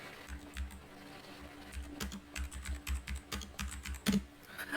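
Typing on a computer keyboard, a quick patter of soft key clicks in uneven bursts, close and quiet, with no one speaking.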